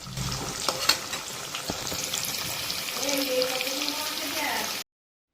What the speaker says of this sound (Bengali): প্রথমে আলুগুলোকে নুন আর হলুদ দিয়ে মানে ছাঁকা তেলে ভেজে আলাদা করে তুলে রাখতে হবে